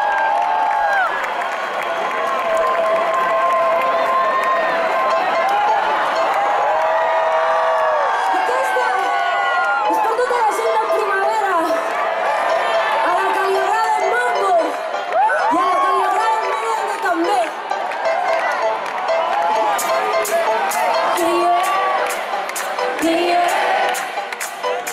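A loud festival crowd sings along in unison at a concert at Primavera Sound, voices dense and continuous for the whole stretch with scattered cheers and claps, as if recorded close to one singer in the crowd.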